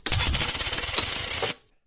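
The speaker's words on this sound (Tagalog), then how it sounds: "Sumaboy ang mga barya sa paligid niya." Coins slip out of a pocket and scatter on the ground, a loud close burst of metallic clinks and rattles that settles and stops after about a second and a half.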